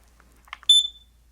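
A single sharp, high-pitched electronic beep from a smoke alarm rings out after a few faint clicks, then fades into quiet.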